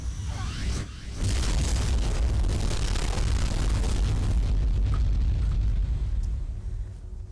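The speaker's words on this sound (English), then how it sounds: "it makes the explosion that's about to happen" A valve explosion in the video game Mirror's Edge sets off a loud, sustained roaring blast that rumbles heavily for several seconds before tapering off.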